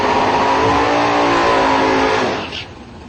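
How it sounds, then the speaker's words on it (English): A 1963 Corvette drag car accelerates hard down the strip, a loud, close engine roar with rising harmonics that fades quickly at the end. "Conley in the 63 Corvette"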